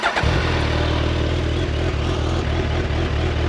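A 2026 Suzuki Hayabusa Special Edition with a 1340cc, 190-horsepower engine idles loudly and close, a steady deep rumble running without pause after starting up.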